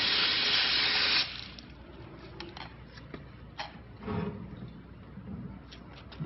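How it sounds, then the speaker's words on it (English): Water rushes loudly through a plumbing clean-out pipe for about a second, then drops to a low trickle and gurgle broken by scattered splashes and drips. "You see the water splashing right through there?"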